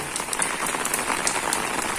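Heavy rain pours down steadily in a garden in Kyiv region in June, a dense, close hiss of countless drops striking leaves and surfaces with no pause.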